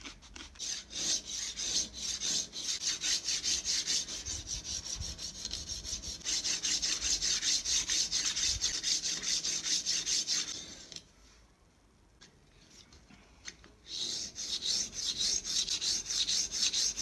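A kitchen knife is stroked back and forth across diamond sharpening stones, a close, steady gritty rasping in rapid even strokes, pausing briefly near the end before the scraping resumes; no voices.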